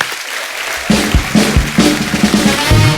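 An audience applauds for Sunny on the Kapil Sharma Show, a comedy talk show. The clapping is dense and loud, swells in after a short quiet start, and carries on steadily with a faint tonal layer underneath.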